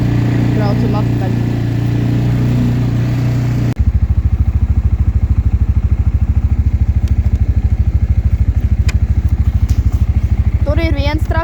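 A Belarus MTZ tractor engine chugs loud and close as it drives back, its rapid, even diesel beat filling the recording after an abrupt change in the noise, with a brief voice near the end.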